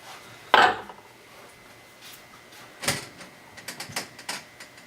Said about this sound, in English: let's see how we can spoon this mess into the pans.